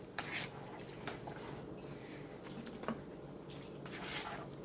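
A spoon stirs a thick Southwestern casserole in a full dish, making soft wet squishing and scraping sounds in quiet, irregular bursts, faint and close.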